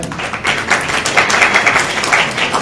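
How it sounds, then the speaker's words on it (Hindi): An audience at an Urdu talent award programme applauds a doctor with a dense, steady patter of many hands clapping, moderately loud throughout. "डॉक्टर आप लोग ताली बजाकर इनकी इज्जत अफजाई करें"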